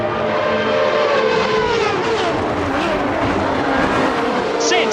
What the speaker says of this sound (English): I'll leave you alone with the sound of that jet-powered Lotus 101